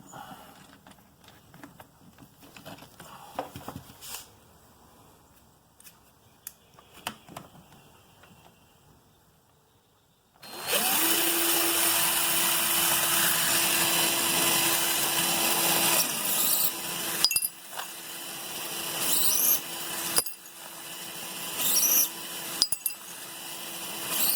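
A deburring tool works the inside mouths of .223 brass cases converted to 300 Blackout, starting midway as a loud, steady mechanical whir with a sustained tone and scraping texture after a quieter stretch of faint clicks.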